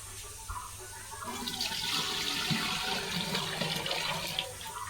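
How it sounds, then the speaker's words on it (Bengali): Milk poured into a cooking pot to make payesh, Bengali rice pudding, gives a steady liquid pouring and splashing sound lasting several seconds, fairly close and moderately loud with no talking. "এবার আমি এই দুধটুকু ঢেলে দেবো"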